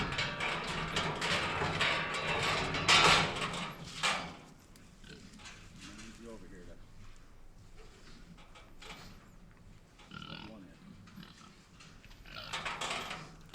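Pigs grunting during a summer weigh-in on a farm, with bursts of noisy snorting and shuffling early on, then quieter intermittent grunts and a louder flurry near the end.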